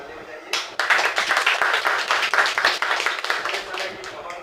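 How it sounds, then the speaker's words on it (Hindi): An audience claps at an award ceremony, a burst of rapid, close, fairly loud hand claps starting abruptly and holding steady for several seconds with a voice faintly under it. "ताली बजाइए"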